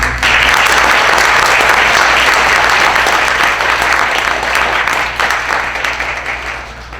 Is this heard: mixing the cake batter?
no